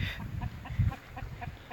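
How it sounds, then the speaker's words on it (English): A rooster near farmyard chickens gives a quick series of short, evenly spaced clucking calls at moderate distance, with faint background noise and no talking. "That would be a rooster, all right."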